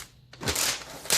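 Plastic protective film peeled and crinkled off a brand-new Asus laptop, a short close-up burst of crackly rustling that swells midway and flares again at the end.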